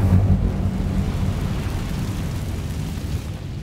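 A fire spell cast in the wizarding game Hogwarts Legacy: a loud, rumbling burst of flame with a heavy low roar that surges at the start, then settles into a steady crackling rush for a few seconds.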